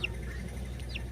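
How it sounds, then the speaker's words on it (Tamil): Two brief, shrill squawking guinea fowl calls, one at the start and one near the end, heard over a steady low rumble. "கின்னி கோழி இங்கிட்டு கத்துது"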